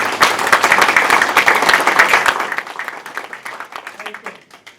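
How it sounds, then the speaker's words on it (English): Applause for healthcare workers at a Kossuth County COVID-19 vaccine information meeting, dense clapping from a room of people that tapers off over a few seconds, mixed with some voices. "Let's give them a applause."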